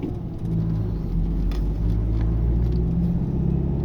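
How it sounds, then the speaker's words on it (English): Steady low engine rumble from a British car, a constant close drone holding at an even level with no distinct revving, alone without talk. "And a British car."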